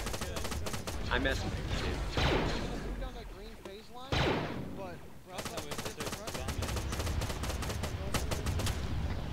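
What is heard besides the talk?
pistol gunfire in a Star Wars video game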